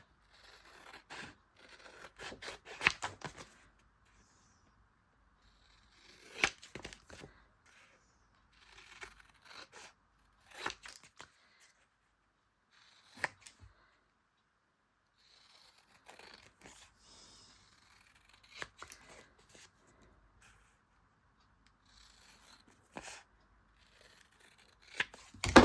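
Scissors snip through paper while trimming a hidden journaling pull-out page, in several short separate bursts of cutting spread across quiet pauses, close and fairly soft.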